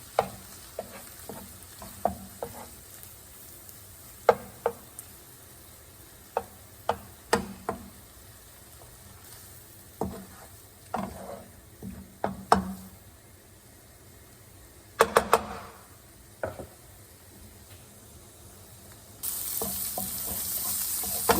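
Corn and bacon frying in a skillet, stirred with a spoon: a soft steady sizzle under repeated sharp scrapes and clinks against the pan, coming in irregular bursts.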